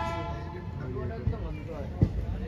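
A long passenger train stands at a railway station on the Kashi to Ayodhya route, giving a low rumble with a brief horn-like tone while nearby voices talk over it.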